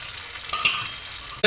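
Potatoes, cauliflower and peas go into a pan of hot oil for a potato curry, making a close sizzle and a stirring scrape, with a sharp louder burst at the very end.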